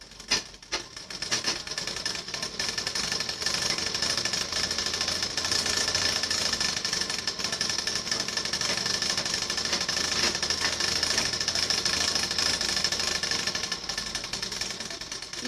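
A sewing machine stitches the lining into a blouse, its motor running in a steady, close, continuous mechanical whir for nearly the whole stretch, with no voices.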